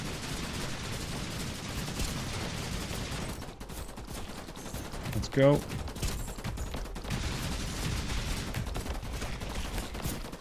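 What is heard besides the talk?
sky cannon turret firing in video game IDUN Frontline Survival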